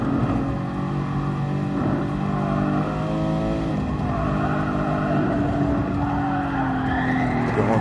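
A Black Series car, driven on the Nürburgring with heavy oversteer, screeches its tyres in a continuous loud skid over a droning engine note that rises toward the end.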